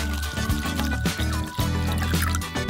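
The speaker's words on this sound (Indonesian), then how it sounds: "Mari tambahkan kaldu ayam." Chicken broth poured into a decorative soup, a steady liquid splash and trickle lasting a few seconds with bright background music over it.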